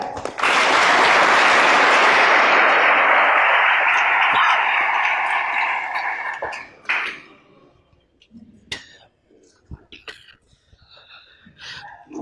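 Loud applause from a crowd at a comedy sketch bursts out and fills the first several seconds, then fades into scattered claps, coughs and small noises.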